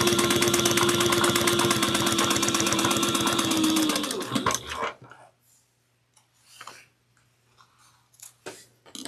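A sewing machine top stitches a clutch wallet at an eighth of an inch, running loud and steady with rapid even stitching for about four seconds before it stops, followed by faint handling noises.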